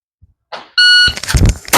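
A shot timer's sharp electronic beep sounds at the start of a USPSA pistol draw, followed at once by a loud, close gunshot and a second shot near the end.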